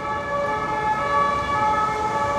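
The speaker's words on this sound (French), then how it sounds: "c'est rare qu'il n'y a pas de sirène" Emergency vehicle siren sounding outdoors, a steady tonal wail holding loud and continuous throughout, with faint traffic rumble beneath and no talk.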